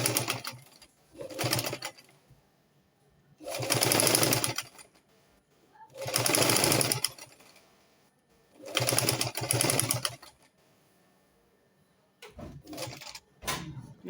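Sewing machine stitching a skin illusion net neckline, running in several bursts of a few seconds each, separated by quiet pauses, with shorter bursts at the end.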